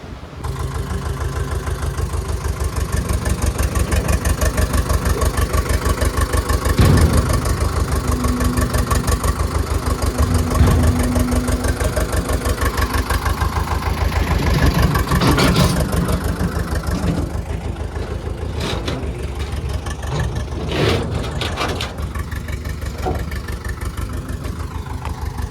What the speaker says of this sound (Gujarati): તે પણ ભારી ધીરું ટ્રેક્ટર હાક્યું.